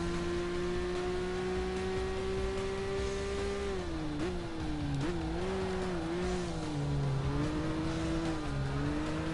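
Peugeot 205 Turbo 4WD engine in Gran Turismo 5 holds a loud, steady racing drone on a track of long curves. Its pitch dips and wavers repeatedly through the second half, with no talk.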